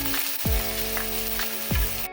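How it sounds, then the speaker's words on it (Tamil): Onions sizzle and crackle in a hot pan, with a couple of soft scraping stirs breaking through the steady frying hiss. "வெங்காயம் வந்து கொஞ்சம் நல்லா வதங்கட்டும்."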